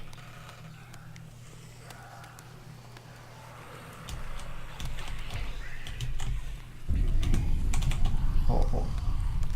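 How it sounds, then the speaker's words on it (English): Computer keyboard keys pressed during play of Hellblade: Senua's Sacrifice, a run of crisp clicks and taps of varying density over low game ambience and rumbling, with the background growing louder toward the end. "I'm doing this part with the keyboard."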